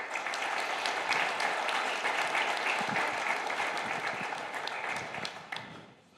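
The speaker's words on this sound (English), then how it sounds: "Please, a round of applause." Sustained audience applause welcoming guests onto a stage at a platforms panel, a dense wash of many hands clapping steadily and loudly for about six seconds before tapering off at the end.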